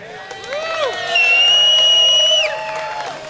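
A BMX event crowd cheers and whoops at a call for noise, with loud shouts and high sustained yells swelling in the middle, then easing off.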